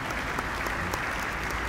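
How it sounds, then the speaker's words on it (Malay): An audience applauds at a CPR training event held at Masjid Negara, steady dense clapping from many hands filling the room, moderately loud with no voices over it. "Kita berikan tepukan gemuruhlah kepada penganjur pada hari ini."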